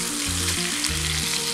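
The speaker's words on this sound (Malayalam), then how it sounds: "ഇതുപോലെ ഒന്ന് ഫ്രൈ ആയാൽ മാത്രം മതി." Tilapia fries in hot oil, a steady dense sizzle with crackling throughout, close and loud, no talking.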